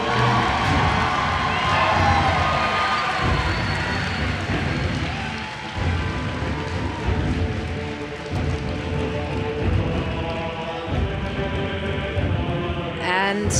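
A large BlizzCon 2013 crowd at the World of Warcraft Arena finale cheers and applauds loudly and continuously, with a steady roar of clapping and shouts that swells and dips throughout.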